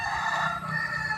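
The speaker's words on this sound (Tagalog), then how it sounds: "Yung manok ko." A chicken calls briefly and close, a single sustained, harmonic-rich vocalization lasting about a second.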